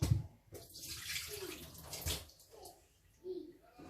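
Water pours into a pot of lentil soup with chicken, a close, continuous splashing gush that rises and falls over a few seconds, with a voice speaking faintly under it.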